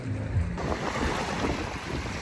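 Sea waves wash onto the shore in a continuous rushing roar, with wind buffeting the microphone close up.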